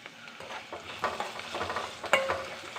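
Ginger, onion and green chilli sauté in a pan, soft sizzling with a spoon stirring and scraping, close and fairly quiet, with no talking.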